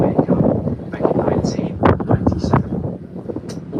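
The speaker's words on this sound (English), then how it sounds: "We're very windy, guys." Wind blows across a microphone on a London ferry cruise, a steady rumbling buffet under someone talking throughout.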